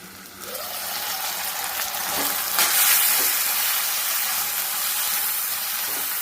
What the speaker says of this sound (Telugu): మూత పెట్టి మగ్గించుకున్నాము